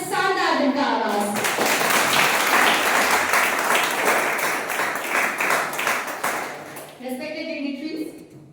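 An audience at the Mic Of Mithila literary event in Madhubani bursts into loud, dense applause for about six seconds. A voice speaks just before the clapping starts and again as it tapers off.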